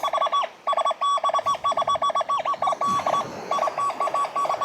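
XP Deus II metal detector sounding through its speakers on an empty beach, rapid warbling electronic beeps pulsing in quick repeated bursts with small pitch shifts, close and fairly loud over faint wind noise.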